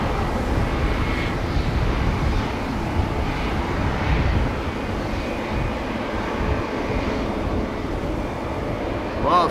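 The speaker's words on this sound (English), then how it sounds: "The E2 is already lining up." Embraer E2 jet lining up for departure at Amsterdam Schiphol on a windy day, heard as a steady, loud low engine rumble and roar that holds for the whole stretch, with wind noise mixed in.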